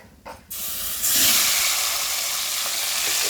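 Small puti fish hit hot oil, a sudden loud spitting hiss that swells and then holds as a steady close frying roar after a short quieter opening.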